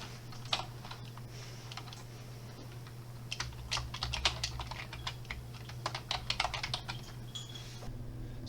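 Steady clicking of computer keyboard typing, close and fairly quiet, in irregular bursts of keystrokes over a low constant hum, with no voices.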